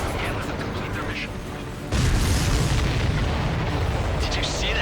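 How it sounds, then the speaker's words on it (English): A loud explosion in the Ace Combat 7 flight combat video game bursts in suddenly and leaves a sustained rumbling roar, with radio-style voices talking before and after the blast. "Did you see that explosion?"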